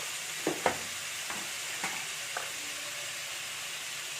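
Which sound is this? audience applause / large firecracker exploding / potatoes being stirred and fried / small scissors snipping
potatoes being stirred and fried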